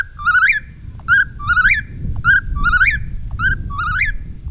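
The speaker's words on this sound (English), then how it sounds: "Okay, listen. Here's the bird." A bird singing near nightfall, clear whistled calls that each rise and waver, repeated about six times in quick succession, loud and close over a low background hum.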